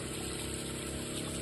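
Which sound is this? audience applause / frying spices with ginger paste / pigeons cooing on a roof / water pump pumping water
water pump pumping water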